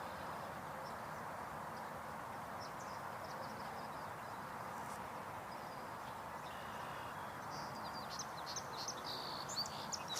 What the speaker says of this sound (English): Song sparrow that we just heard.